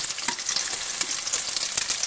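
Onions, curry leaves and dried red chillies frying in hot oil for a fish curry, producing a dense, crackling sizzle with close, continuous popping and no voices.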